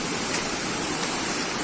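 Waterfall at Curug Cibingbin, a dense continuous rush of falling water, loud and close, with a steady broadband roar and no voices.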